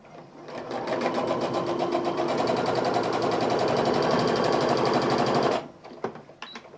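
A sewing machine stitching quilt fabric for a sashing star block runs in one steady, rapid mechanical whir for about five seconds, close and alone, then stops with a few soft handling clicks.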